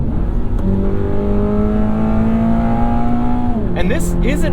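A 2023 Toyota GR86 automatic, shifted into manual and in track mode on a twisty canyon road, revs loudly and climbs steadily through its engine note before a quick shift drops the pitch, heard close and continuous throughout.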